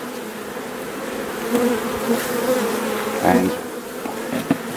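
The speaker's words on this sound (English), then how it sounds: "I want to do is knock all the bees off, get them all out of the way." Honeybees being knocked off a frame from a hive, a close, dense buzzing hum with sharper rises as they are brushed loose, and a brief spoken word.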